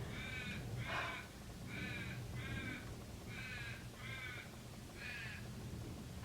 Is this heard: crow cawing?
yes